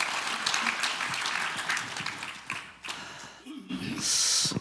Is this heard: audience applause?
yes